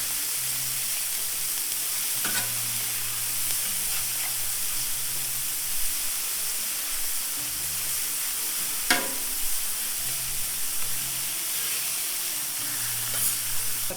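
A smash burger patty sizzles on a flat griddle as a steady, even hiss with a low hum underneath and a few faint clicks of a spatula.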